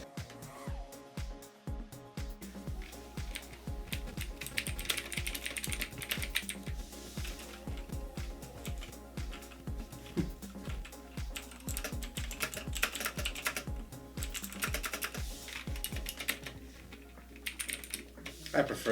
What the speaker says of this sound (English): these are Kailh Blues on the left, and Michael chose the Outemu Blues as the winner out of these 2